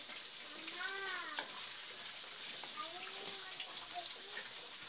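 Ingredients sauté in a hot pan for Filipino ginataang gulay with crab, giving a steady, close sizzle throughout while a voice talks briefly over it.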